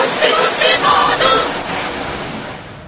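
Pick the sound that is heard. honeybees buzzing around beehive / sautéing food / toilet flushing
toilet flushing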